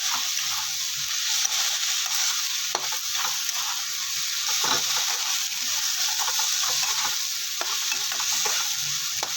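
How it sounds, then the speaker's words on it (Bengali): Saag, leafy greens, frying in a pan, a steady loud hiss of sizzling oil with occasional scraping stirs and no talking. "তো এখানে শাক ভাজিটা দেখতে পাচ্ছ, শাক ভাজিটা হয়ে এসছে প্রায়।"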